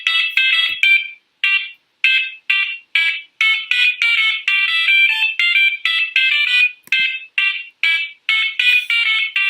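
A fire alarm in the video game Butterfly Soup plays a bright electronic melody of loud, rapid beeping notes. The notes come in short rhythmic bursts with brief gaps, alone and without talk.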